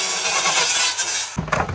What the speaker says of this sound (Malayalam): ഒന്നും നോക്കണ്ട കട്ടർ എടുത്ത് ഒറ്റ കട്ടിങ്